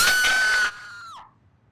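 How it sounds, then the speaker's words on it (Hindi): A high-pitched scream from a woman, apparently coming from upstairs, sounds once and strongly, holds for about half a second, then trails off in a gliding tone as it fades. "ये चीख सुनाई दी?"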